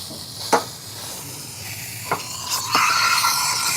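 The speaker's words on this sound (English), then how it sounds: "So the steam is already coming out." Steam wand of a DeLonghi La Specialista espresso machine hissing steadily, with a few sharp clicks or knocks early on and a louder, brighter surge of steam toward the end; close and continuous, no talk.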